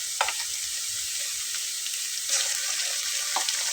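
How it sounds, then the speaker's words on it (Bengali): Garlic paste sizzling in hot oil in a pan while cooking chicken curry: steady, bright hiss with faint crackles and soft stirring clinks, close and moderately loud. "আমি দিয়ে নিচ্ছি রসুন বাটাটা।"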